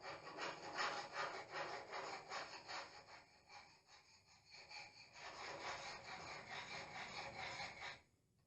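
Dried wood filler being carved and scraped back on damaged woodwork, a close rhythmic rasping rub in repeated strokes, easing briefly in the middle before resuming and stopping abruptly.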